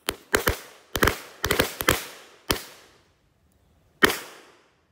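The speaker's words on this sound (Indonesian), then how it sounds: "yang pertama mercon Sun Smoke SMS 1 tor. Kita nyalakan di dalam tanahnya" Sun Smoke SMS firecrackers set off inside the ground go off as about ten sharp, loud, close bangs. Most come in quick clusters over the first two and a half seconds, then a pause, then one last crack.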